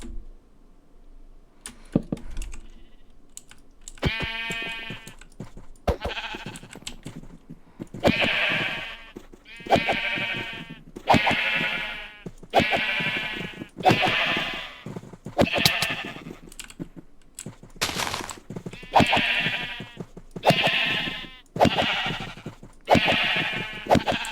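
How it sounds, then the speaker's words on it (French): Repeated sheep bleats in a horror-modded video game, a steady string, loud and close, with clicks of keys or mouse between them and no talking. "Je me suis fait tabasser par des moutons."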